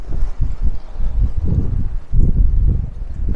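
Strong coastal storm wind buffets the microphone in loud, irregular low gusts and rumbling bursts, with rain on the seafront street.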